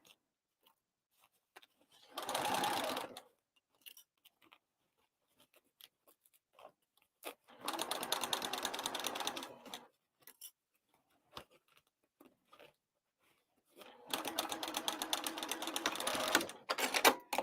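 Sewing machine stitching across a crossbody bag lining at a long stitch length, in three separate bursts of running with short back-tack pauses, near and fairly quiet, with faint handling clicks between runs.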